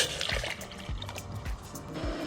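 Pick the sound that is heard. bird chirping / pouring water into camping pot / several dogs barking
pouring water into camping pot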